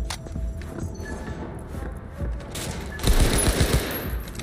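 Rapid bursts of gunfire in the first-person shooter Cyberpunk 2077, a dense rattle running throughout and growing louder and sharper in the last second and a half, with no talk over it.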